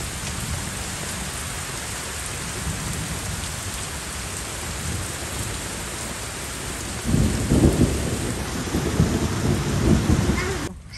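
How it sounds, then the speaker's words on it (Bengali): Heavy rain pours steadily on surfaces while wind gusts, with a deeper rumbling surge of wind and rain about two-thirds of the way through, loud and continuous without speech. "পুরো বৃষ্টি বৃষ্টি বাতাসে উঠতেছে"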